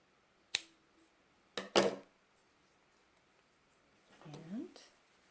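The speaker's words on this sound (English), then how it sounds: "And then we're going to go ahead and cut this off." Sharp scissor snips cutting crochet yarn off a finished bucket hat, two quick close cuts separated by a pause, followed by a softer rustle of handling, with no talking.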